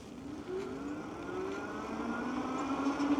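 The motor of a Windhorse W4A folding electric bike, on throttle during a hill climb, gives off a steady whine that rises gradually in pitch as it accelerates, with road and wind noise underneath.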